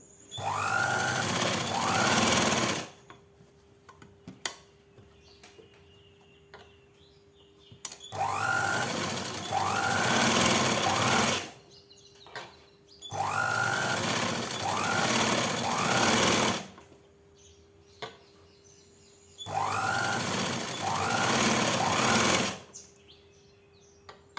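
A sewing machine stitches a 42-inch blouse in four loud whirring runs of a few seconds each, separated by quiet pauses with small clicks.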